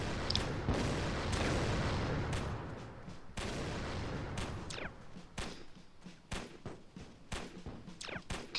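Gunfire aimed at a tank in the toy-soldier game Attack on Toys, a loud rumbling barrage settling into repeated sharp shots with thuds and booms, crackling at close range.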